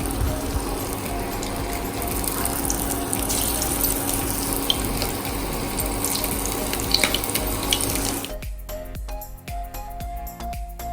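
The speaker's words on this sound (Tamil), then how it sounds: "இப்போ இதை ஃப்ரை பண்ணிடலாம்" Sliced banana flower frying in heated oil, a steady dense hiss and crackle that runs continuously for about eight seconds, then thins into scattered sharper pops and sizzles.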